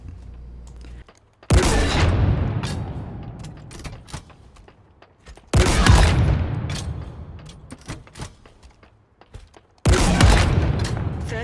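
A weapon fires at the gun range in Halo Infinite: three loud, separate booming shots, each trailing off into a long fading roar before the next.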